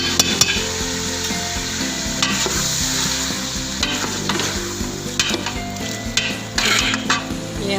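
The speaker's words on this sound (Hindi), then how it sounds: "अब इसमें मैं डालूँगी ये 3 अदद प्याज, ये 3 अदद टमाटर, और ये लहसुन अदरक का पेस्ट" Onions, tomatoes and garlic-ginger paste frying in a pot for achar gosht, with a steady close sizzle and occasional stirring scrapes and clinks of a spoon against the pot.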